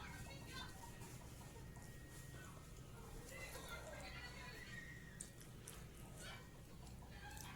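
A pet chicken clucks in a few brief, scattered calls against a busy outdoor background, and someone talks nearby.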